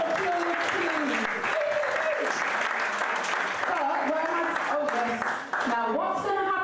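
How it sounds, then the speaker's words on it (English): An audience applauds at an evening creativity event, steady clapping under a voice and tonal music or singing that run throughout. "So big, massive round of applause, please."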